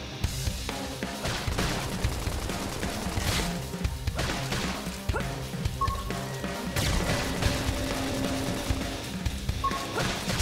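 Video game combat with gunfire fired from a high position: repeated sharp shots and impacts crackle in irregular bursts over a busy background of effects and music, moderately loud throughout.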